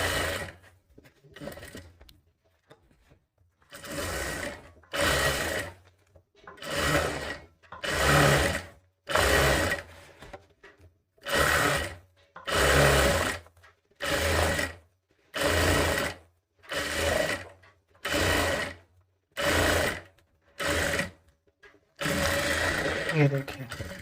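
A sewing machine stitches a katori blouse in a long series of short, evenly spaced bursts, about a second each with brief pauses between, heard close and clear.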